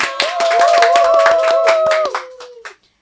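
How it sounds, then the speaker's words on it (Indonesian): A handful of people clap together in a podcast studio, a dense burst of close hand claps lasting about two seconds before tapering off, with a few stray claps and a brief voice at the end. "Tepuk tangan dulu dong."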